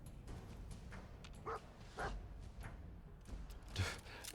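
Dogmeat, the dog companion in Fallout 4, gives several soft barks and yips at a low level, spaced apart over a quiet game background.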